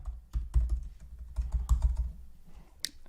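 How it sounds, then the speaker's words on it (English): Someone types a password on a computer keyboard, giving uneven bursts of close, fairly quiet key clicks that pause briefly near the end before one last sharp tap. "So you just want to go ahead and type in a password."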